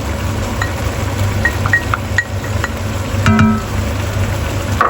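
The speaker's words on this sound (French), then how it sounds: "Je vais y ajouter mon oignon." Onion sizzling in a hot pan of reduced sauce for creamy shrimp linguine, a loud steady frying hiss with a few clinks of a utensil stirring partway through.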